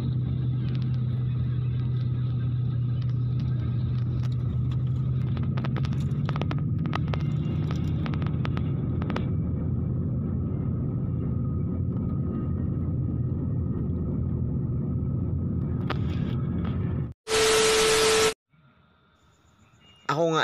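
A bus on MacArthur Highway heard from inside, a steady low engine rumble and road noise throughout, broken near the end by a short loud electronic tone and a brief drop to quiet.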